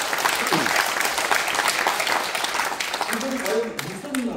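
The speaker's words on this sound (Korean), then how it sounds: "여러분들 동의하시면 박수 한번 주세요" A lecture audience at a political talk in a cultural centre claps steadily in sustained applause that fades slightly toward the end.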